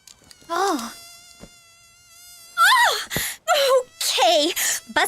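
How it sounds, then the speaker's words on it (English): Mosquitoes buzzing, a thin, steady whining drone that hangs between bursts of gasping, groaning vocal sounds and brief sharp knocks, fairly close and clear. "Buzzing little pests"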